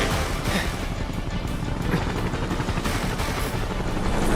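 Video game boss fight with a helicopter: a dense, continuous rumble of rotor noise and rapid gunfire rattles on steadily at loud volume.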